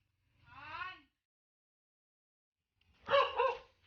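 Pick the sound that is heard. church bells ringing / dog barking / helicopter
dog barking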